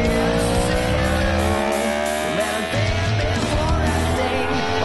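An Aprilia RSV4 superbike on the Portimao race track, its engine screaming loudly and continuously with shifting harmonic tones as it revs, close and with no pauses.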